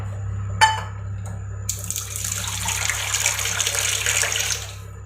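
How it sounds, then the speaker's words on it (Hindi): After a small click, water is poured steadily into a pot for tea, giving a continuous close splashing rush over a low hum that stops after a few seconds. "इसमें ले लेते हैं पानी।"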